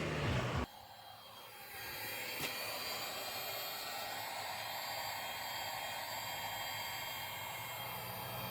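A heat gun or hair-dryer-style blower warming the adhesive glue on an Ocam weather shield for an MN Triton before fitting, a steady broadband airy roar that starts after a brief louder burst and runs on unbroken, close and alone.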